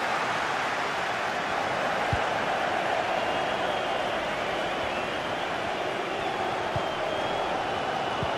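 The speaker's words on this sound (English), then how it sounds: "listen to the energy of this crowd. They're urging Liverpool on." A stadium crowd in the football game FIFA 21 at a League Cup match between Liverpool and Arsenal, a steady broad roar of cheering held at constant level, with occasional faint thuds underneath.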